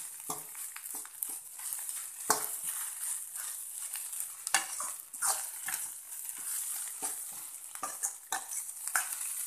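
Semolina for upma frying in a pan, a steady dry hiss broken by repeated scraping stirs of a spoon, close and moderately loud with no talking.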